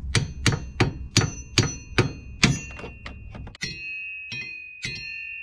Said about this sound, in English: I'm just gonna start whacking it with a hammer